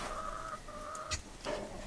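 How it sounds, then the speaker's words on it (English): A rooster makes a couple of drawn-out, tonal clucking calls followed by a shorter squawk, faint against a steady background hiss. "That's our new Rooster"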